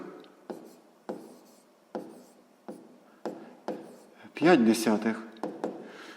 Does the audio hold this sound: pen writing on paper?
yes